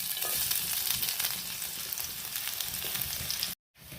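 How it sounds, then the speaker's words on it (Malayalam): Chopped shallots fry in hot coconut oil for a Kerala prawn curry, giving a loud, steady, close-up sizzle with crackling pops, cut by a brief dropout to silence near the end. "ഇനി നമുക്ക് കുറച്ച് കൊച്ചുള്ളി അരിഞ്ഞത് അങ്ങോട്ട് ഇട്ട് കൊടുക്കാം"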